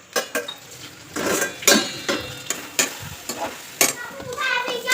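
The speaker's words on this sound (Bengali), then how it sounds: "দুটো চুলাতে বসিয়ে দিয়েছি দুটো কড়াই তো একটাতে বসিয়ে দিয়েছি ওই লাউ সবজি আর একটাতে বসিয়ে দিয়েছি ওই সিম" Gourd and bean vegetables cooking in two pans on stoves, with repeated clinks of utensils against the pans and stirring scrapes in an irregular rhythm, close by, over a faint sizzle.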